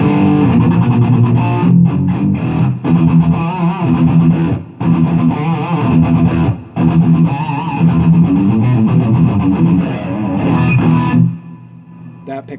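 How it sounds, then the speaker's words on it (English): A Strandberg Boden electric guitar on its bridge pickup is played through a gain-heavy, distorted tone, with loud sustained chords and riffs, a few brief pauses, and the ringing fading out at the end. "So here's the bridge pickup."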